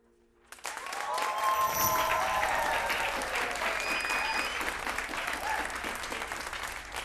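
Audience at an NSSF awards event bursts into applause after a brief quiet start, a dense sustained clapping that fills the room and holds steady to the end.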